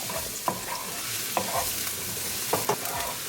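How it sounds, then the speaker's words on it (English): Chopped garlic fries in olive oil in a pan over a high gas flame, a soft continuous sizzle broken by a few sharp scrapes of stirring. "We're going to cook the garlic for 30 seconds."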